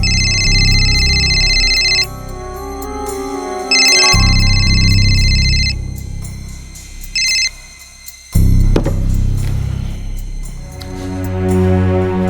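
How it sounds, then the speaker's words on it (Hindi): A phone ringtone plays loudly in repeated bursts with pauses between, over a low musical background. "अनु फोन बार बार कट कर रही है अप्पा।"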